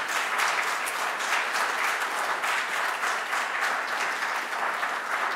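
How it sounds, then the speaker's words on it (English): A lecture audience gives a full round of applause, dense, even clapping from many hands that holds steady for about five seconds. "Can we all give him a big round of applause?"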